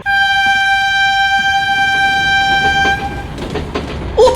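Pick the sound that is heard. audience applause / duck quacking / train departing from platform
train departing from platform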